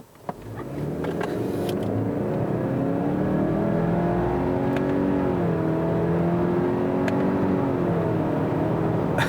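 A 2019 Subaru Ascent with a CVT in manual mode accelerates at full throttle, its engine drone rising steadily and stepping through simulated gear shifts, heard from inside the cabin.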